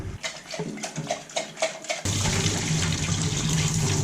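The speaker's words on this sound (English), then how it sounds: "So let's pour the water out." Water poured out of a plant-growing bottle: first a choppy, gurgling pour, then a steadier, fuller rush of running water near the microphone, with no voices.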